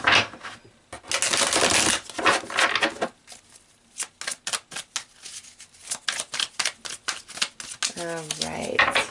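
Tarot cards are shuffled by hand in quick bursts of riffling and flicking, loud and close, with short pauses between rounds and a brief voice near the end.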